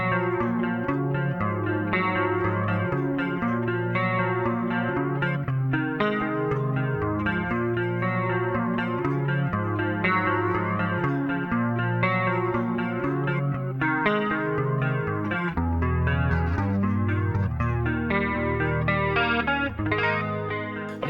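Electric guitar played through a Roland JC-40 Jazz Chorus amp with its chorus effect engaged, a continuous shimmering chordal passage with steady strumming and sustained tones, loud and close, no talk.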